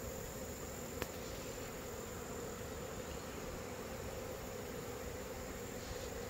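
A steady, dense hum of many honey bees buzzing around a horizontal Lane's hive housing a late-August swarm and a nucleus colony outdoors, continuous and even in level, with no talk.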